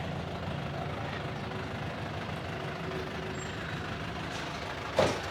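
A gas delivery truck on a street in Chapala, Mexico, heard as a steady, fairly faint low engine rumble that idles on with little change until a short sharp burst near the end.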